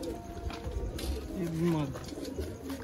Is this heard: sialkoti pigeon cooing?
yes